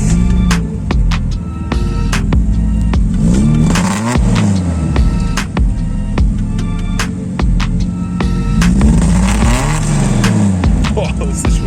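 A Datsun 280Z engine revs and pulls away with a slight stutter, rising and falling tones sweeping up through the gears, loud and close with a throbbing exhaust note.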